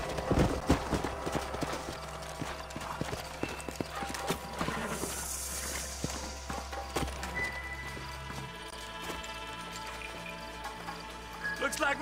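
Horses' hooves clip-clop irregularly on the ground in the video game Red Dead Redemption, close and clear, with a horse whinnying and other game sounds mixed in.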